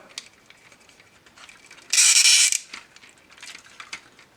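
A tight two-stage ratchet shoulder joint on a Transformers Studio Series 01 Devastator dump truck toy gives a single loud, dense burst of clicks about half a second long as the shoulder is twisted backward, with faint handling noises before and after.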